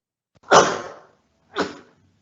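Two close, loud sneezes from one person, a long forceful burst followed about a second later by a shorter second sneeze, with no talking in between.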